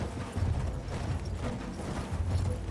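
A horse gallops over rough ground in the Battlefield 1 video game, its hooves drumming in a steady, close clip-clop rhythm under low rumbling game ambience, with no talk.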